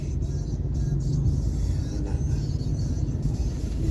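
Road traffic at a diversion road crossing, a steady rumble of passing cars and engines, fairly close and continuous throughout with no talk.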